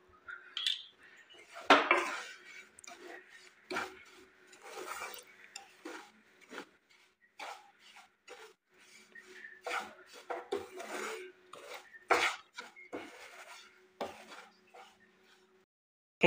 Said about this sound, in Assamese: মই ল' ফ্লেমতে এইদৰে লৰাই আছোঁ